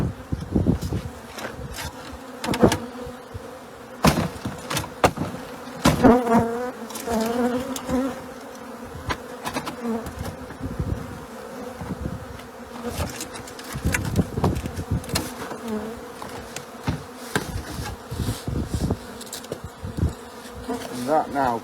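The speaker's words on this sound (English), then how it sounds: "just knock these bees into this blue tub." Honey bees buzz densely while being knocked from a chimney on scaffolding in Congleton into a plastic tub, with sharp knocks and thumps cutting through the close, continuous drone.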